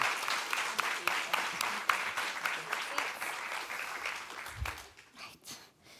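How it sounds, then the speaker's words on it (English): A conference audience applauds the panelists at a nutrition recommendations launch, moderate clapping with distinct claps up close, holding steady before thinning out and trailing off into scattered last claps. "Let's give our panelists a round of applause"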